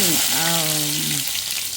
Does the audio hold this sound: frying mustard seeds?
yes